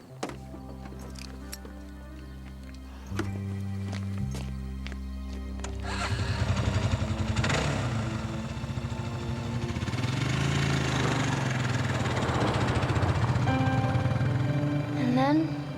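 A motorcycle engine starts up and revs, then growls steadily as it pulls away, with voices and other sounds in the background.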